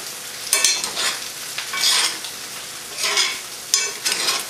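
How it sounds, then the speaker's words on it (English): Scrambled eggs with pepper jack cheese sizzle steadily in a pan beside pork roll, broken by several close scraping strokes of a utensil stirring them, with no talk. "And just mix it around until we have some cheesy scrambled eggs."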